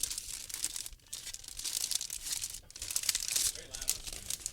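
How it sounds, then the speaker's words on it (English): Crinkling and rustling of plastic bags being rummaged through, with bursts of crackling crunches and brief tearing-like noises, close and fairly loud, with some talk around it. "I had to find the right plastic bag full of shit."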